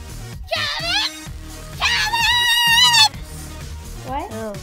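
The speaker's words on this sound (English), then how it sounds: "That one kid who screams for anything." A child screams in long, loud, wavering bursts: one near the start, a longer sustained shriek in the middle, and a shorter cry at the end, with quieter voices in between.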